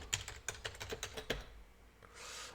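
A password is typed on a computer keyboard as a quick, even run of soft key clicks, fairly faint and close, stopping partway through into quiet room tone.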